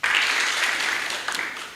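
Sustained crowd clapping at a ward MCA candidates' debate greets a newly introduced candidate, dense and steady throughout before tapering slightly near the end.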